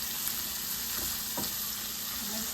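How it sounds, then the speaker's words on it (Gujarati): Chopped capsicum sautéing in a pan for veg Manchurian gives off a steady, even sizzle and fry hiss, with a couple of faint stirring clinks. "કેપ્સિકમ એડ કરીશું. અને એને થોડું સાંતળવા દઈશું."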